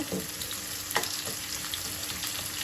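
Onions frying in hot oil in a pan, a steady soft crackling sizzle with a few brief stirring scrapes, close and fairly quiet throughout.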